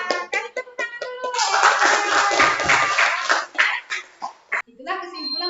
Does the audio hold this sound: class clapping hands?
yes